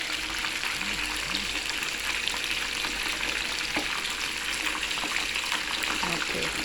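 Lumex fish (Bombay duck) dipped in flour batter fries in hot oil, giving a dense, steady sizzle and crackle that runs unbroken throughout, close up, with faint background sounds beneath.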